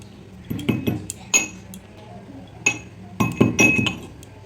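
Dry-roasted cumin seeds being pounded in a metal mortar and pestle: close, sharp metallic clinks land in irregular clusters, with short quiet gaps between the strikes.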